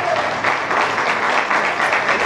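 Steady applause from a gathered group at a meal in Tajikistan, a dense, continuous patter of many clapping hands, close and fairly loud throughout with no talk over it.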